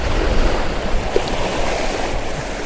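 Ocean surf at Noirmoutier, a loud continuous wash of breaking waves with rough wind buffeting the microphone and no talking.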